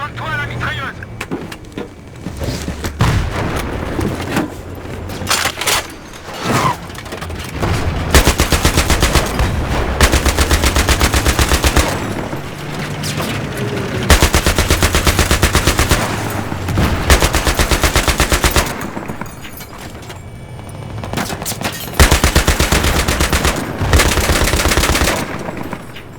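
Battlefield 3 tank-mounted machine gun firing in long, loud, rapid bursts, with engine rumble and intermittent voices underneath during a combat mission.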